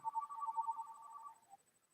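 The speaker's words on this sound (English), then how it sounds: "this ringer, I got to change it, but it just doesn't stop ringing" A telephone ringer trills in a rapid warbling burst for about a second and a half and then stops, clear and isolated in a quiet room.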